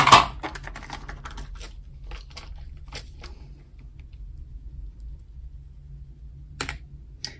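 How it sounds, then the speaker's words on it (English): Dice rattle and clatter in quick bursts during a tarot reading, a dense run of sharp clicks at the start followed by sparse taps, then a final pair of clicks after a quiet stretch. "So we're rolling the 5th set of dice for you."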